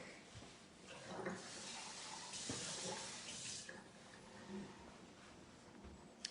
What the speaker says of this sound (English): Let me empty out this beaker real quick.